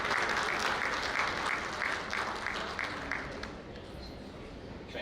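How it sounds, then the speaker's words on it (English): An audience claps for presenters at an architects' knowledge-sharing event, dense sustained applause from a full room that fades slightly toward the end, with no speech over it. "Big round of applause."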